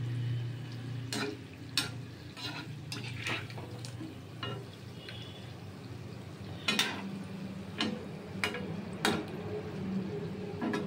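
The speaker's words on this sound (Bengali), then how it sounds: "একটু কড়াই ভাজতে হবে, লাল ব্রাউন কালার করে ভাজতে হবে।" Mango fritters (bara) frying in a wok make a soft, quiet sizzle with occasional light clinks and scrapes of a utensil stirring in the pan.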